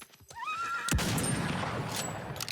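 A loud, close horse whinny rings out in a battle royale game, followed by steady clip-clop hoofbeats and rushing motion noise, with a sharp impact sound partway through.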